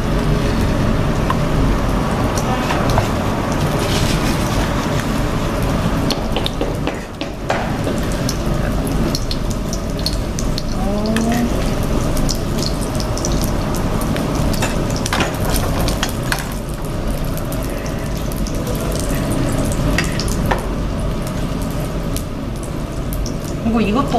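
Korean green chili pancakes coated in batter and filled with meat crackle and sizzle steadily in a pan of oil throughout, under an instructor's continuous talking.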